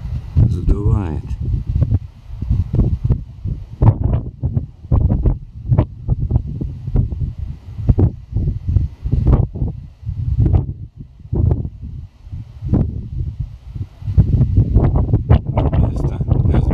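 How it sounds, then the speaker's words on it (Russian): Wind gusting across open fields overgrown with small fir trees near a village, loud irregular buffeting bursts against the microphone in uneven pulses throughout. "ветер задувает"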